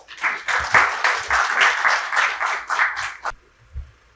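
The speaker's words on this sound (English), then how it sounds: "So let's begin with a big round of applause." A seminar audience on family business claps loudly and steadily for about three seconds to open a panel discussion, then the applause stops abruptly, leaving near silence.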